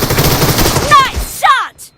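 Shotgun fire in a video game quick match, heard as dense, loud blasts and rapid gunfire, then two sharp whizzing shots before it fades.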